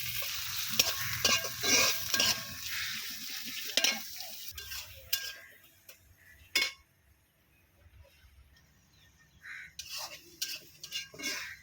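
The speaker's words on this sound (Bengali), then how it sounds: "এখন দিয়ে দিব বন্ধুরা পেঁয়াজ কুচি" Chopped onion hits hot oil for a small-fish curry, giving a bright, close sizzle with scraping stirs and clinks of a utensil against the pan, easing off into quieter frying with occasional knocks.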